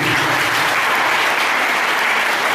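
Church congregation applauding the Lord Jesus during a sermon, dense loud continuous clapping filling the room without a break.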